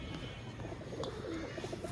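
Pigeons cooing softly at close range, a few low murmured coos against a quiet background, brief and faint.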